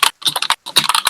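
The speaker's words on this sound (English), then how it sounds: "The furious typing." Rapid, furious typing on a computer keyboard, dense bursts of clattering keystrokes in two quick flurries separated by a brief pause, close and fairly loud.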